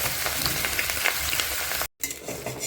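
Catla fish and its roe sputtering in hot oil, a close, loud crackling sizzle that cuts out for a split second before carrying on, with no voices.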